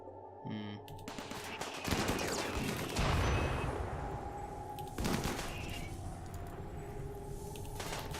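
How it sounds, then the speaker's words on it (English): An inferno cannon fires in the video game Rimworld: dense, sustained roaring blasts with sharp bursts as shots land, continuous and loud throughout. "What are you firing with? Inferno cannon."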